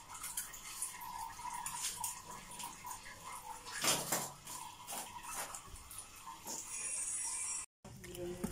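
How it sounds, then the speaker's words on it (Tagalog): Water running and splashing nearby from a dug-up septic tank, with intermittent clatter and bursts, a few muffled voices faintly in the background. "Yung tubig, umaano na, dumadaloy na eh."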